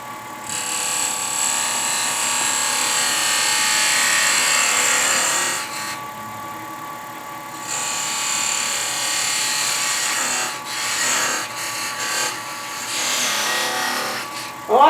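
A wood lathe spins a small miniature workpiece at 2,000 rpm, giving a steady, close whirring rub with gentle scraping texture, briefly dipping around the middle and picking up again with a few sharper clicks near the end.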